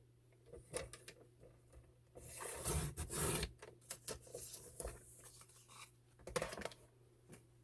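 Cardstock cut on a paper trimmer for a diagonal gatefold card: a sharp scraping slide of the blade along the track in the middle, framed by scattered clicks and taps of paper being lined up, close and fairly quiet.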